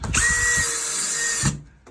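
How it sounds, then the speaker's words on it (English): A power drill fitted with a 1/8 inch bit pre-drills screw holes while solar screens are installed, one loud continuous high whine lasting over a second, starting and stopping sharply up close. "We use a 1/8 inch drill bit to pre-drill our holes"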